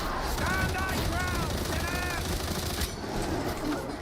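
Rapid bursts of autogun fire in Warhammer 40,000: Darktide rattle through the first few seconds, followed by more scattered shots under a busy, noisy game soundscape.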